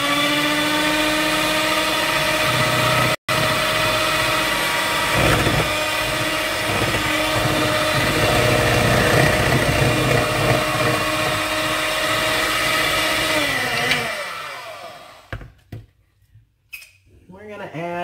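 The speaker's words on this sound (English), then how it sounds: "we're going to mix this in until it's combined" An electric mixer whirs steadily as milk is mixed into a pumpkin lasagna filling, running loud and continuous for most of the time before winding down near the end.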